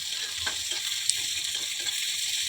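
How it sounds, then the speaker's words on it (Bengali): Two large chopped onions frying in a pan for a paneer curry, giving a steady close sizzle with faint stirring scrapes and a few small clicks, with nobody talking. "দুটো পেঁয়াজ কেটেছি, সেই পেঁয়াজ দুটো দিয়ে দেবো"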